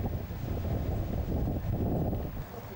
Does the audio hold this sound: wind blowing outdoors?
yes